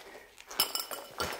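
An old style pint glass clinks against glass in a pub, giving a few sharp, bright chinks in quick succession, close and clear over a quiet background.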